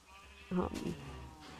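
A sheep bleats once in a video game, a short mid-loud call set over low game ambience, with a fainter bleat-like sound trailing after.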